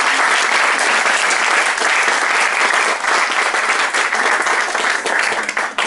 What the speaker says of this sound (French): D'applaudir à nouveau la chorale.